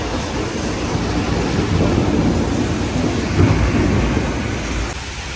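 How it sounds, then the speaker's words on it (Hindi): A heavy thunderstorm with torrential rain and rolling thunder at dusk, a loud, dense, steady roar of downpour with low rumbling throughout and no voices. "बहुत तेज़ बारिश हो रही है, बिजली गरज रही है, बादल गरज रहे हैं"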